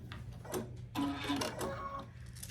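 A sewing machine runs a quarter-inch seam on a scrappy quilt star block, a soft, close, steady whir that speeds and slows over a couple of seconds.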